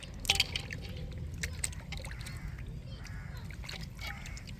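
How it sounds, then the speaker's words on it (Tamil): Wet, squishing rubs and drips as a stingray fish is scrubbed with coarse rock salt to strip its slime, a steady close sloshing texture with a few sharper splashes. "நல்லா உப்புக்கல் போட்டு உரசிக்கிடுவோம்."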